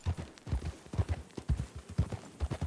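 A startled horse's hooves clip-clop in steady, rapid beats on the ground in the video game RedM, moderately close and with no talking over them.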